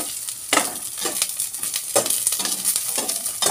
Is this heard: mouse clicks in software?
no